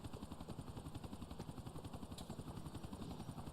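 A helicopter in GTA 4 on PS3 gives a steady, rapid rotor chop with a droning engine whine, close and continuous, with no talking.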